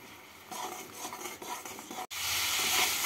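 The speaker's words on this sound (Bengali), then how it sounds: "মশলাটাকে ভেজে নেব" Spice paste for hilsa with pumpkin frying in a pan, a close, continuous sizzle with stirring and utensil scrapes, briefly cut off before a brighter, louder hiss resumes.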